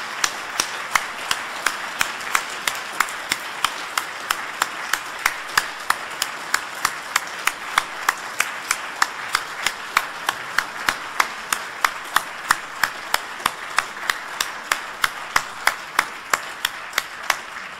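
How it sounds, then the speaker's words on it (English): Audience at a lecture-series anniversary conference claps for a group of speakers, a sustained round of applause with many sharp individual claps at a steady density, moderately loud throughout, with no voices over it. "they deserve a remarkably loud round of applause."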